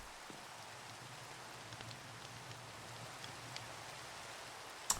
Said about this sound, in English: So the rain puts out the burnt logs too